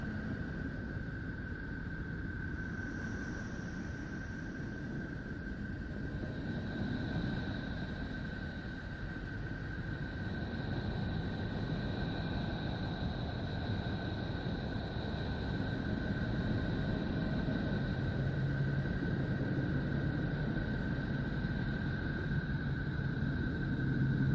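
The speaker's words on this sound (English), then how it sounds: "Neptune sounds like a subway train approaching." A continuous low rumble with a steady hiss and a thin high tone, swelling slightly like an approaching subway train, no voices; a space sound of the planet Neptune.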